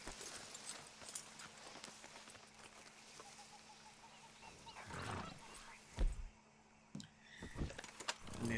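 Horse hooves clip-clop at a steady pace in the Red Dead Redemption 2 video game, with quiet ambient game sounds behind them and a few louder thumps near the end.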